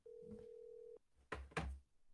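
A telephone ring tone on a podcast phone call sounds as a steady tone for about a second, followed by two short buzzing bursts, faint and thin as over a phone line.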